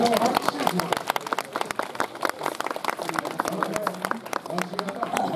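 An audience claps at a historical reenactment at Odaka Hachiman shrine, with dense, sustained applause mixed with voices throughout.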